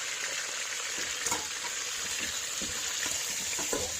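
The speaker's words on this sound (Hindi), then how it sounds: "अब उसमें चिकन शामिल कर दें।" Chicken frying and sizzling in a pot with a steady hiss, a spoon scraping and stirring through it in irregular clinks and knocks.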